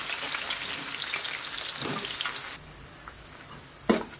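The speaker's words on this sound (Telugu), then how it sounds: "ఎండుమిర్చి అలాగే పచ్చిమిర్చి వేగిన తర్వాత వీటిలో ఉల్లిగడ్డ వేసుకోవాలన్నమాట." Onion added to oil with dried and green chilies fries with a close, moderate crackling sizzle that drops quieter midway, ending in a sharp clatter.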